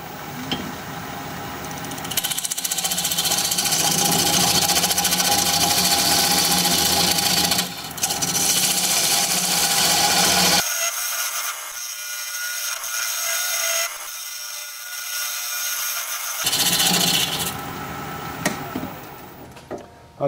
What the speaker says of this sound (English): We're going to be turning at about 900 RPM